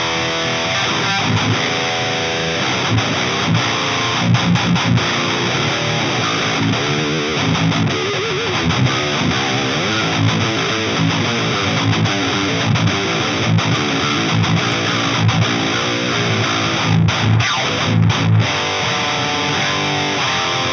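Heavy metal electric guitar played through a Bogner Uberschall-modeled amp and Plumes overdrive pedal, loud and dense with saturated chugging riffs and brief stops, continuous for the whole stretch with no voices.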